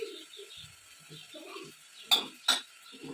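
Wet rice is stirred in a hot pan while its water cooks off. A soft, steady background carries two sharp scraping strokes close together near the end, with no talk.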